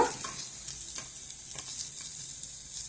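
Dried curry leaves, tamarind and cumin fry in a pan for a chutney, giving a steady close sizzle with occasional stirring scrapes and taps, with no one speaking.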